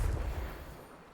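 A Confringo spell explosion in Hogwarts Legacy, a short heavy boom that rumbles and fades out within a second.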